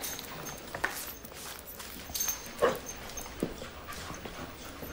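A dog whimpers faintly a few times amid quiet indoor room noise, with soft shuffling and footsteps in the background.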